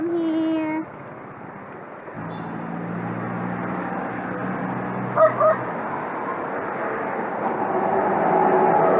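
A dog beside a busy highway gives two short barks close together, fairly faint against the constant hiss and rumble of passing traffic.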